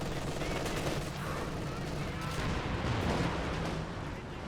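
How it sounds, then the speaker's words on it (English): Katyusha rocket barrage impacts in a WWII strategy game match, a dense rumbling wash of blasts and gunfire rolling on continuously with speech faintly under the din. "Wait, Katusha hitting where?"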